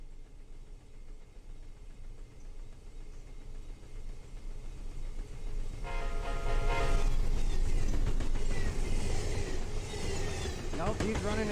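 Train in the Run8 simulator game, an Amtrak passenger service on a depot route, rumbling steadily before swelling louder about halfway through as it rolls past with clanking and squealing wheel noise.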